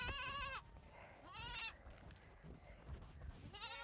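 Goats bleat three times, wavering nasal cries spaced apart with near silence between them, and a brief sharp click partway through.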